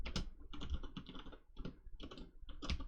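Typing on a computer keyboard: quick bursts of sharp key clicks in irregular clusters with short pauses between, close and clear, no speech.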